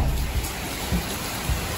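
Heavy rain pours steadily outdoors during a storm, a dense continuous hiss with a few dull low thumps, close and loud with no speech.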